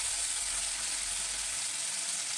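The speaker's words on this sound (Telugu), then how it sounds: "ఉల్లిగడ్డలు ఇలా ఎర్రగా వేగాలి. వేగిన తర్వాత టమాటాలు వేసుకుందాం." Onions and tomatoes frying in a pan for an egg potato rice dish, a dense, steady hissing sizzle heard close up throughout with no talking.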